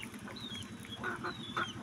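Native chickens on a home farm, clucking and calling repeatedly at close range while eating palay, with short honking, squawky notes over a busy flock murmur.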